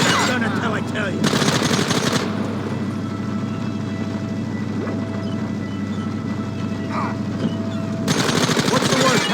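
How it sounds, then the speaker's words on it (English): Bursts of rapid machine gun fire in the Western video game Red Dead Redemption, loud staccato volleys at the start and again near the end over a steady low rumble and background voices. "Look, they brought the machine gun!"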